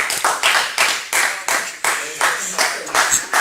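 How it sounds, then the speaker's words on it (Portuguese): One person gives a short run of rhythmic hand claps in a classroom, about a dozen sharp, evenly spaced claps close by. "Show, palmas aí."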